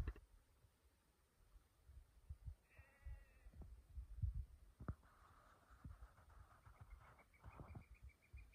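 Sheep bleating on a farm, one quavering bleat followed later by a longer, fainter call, heard over low thumping and soft outdoor background noise.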